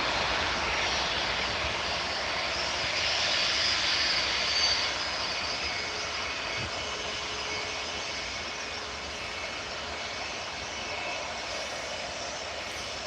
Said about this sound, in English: there's the WestJet 787-9